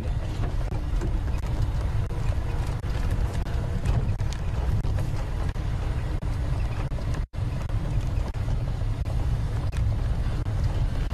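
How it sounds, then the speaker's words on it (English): Cold wind roars steadily across an open safari landscape, a dense low rumble of microphone buffeting that persists throughout with only a brief dropout partway. "Oh, here comes that cold wind."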